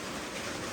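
Heavy rain falling in the morning at a pig pen where piglets are kept, a brief, dense and steady hiss of rain close by, with no voices.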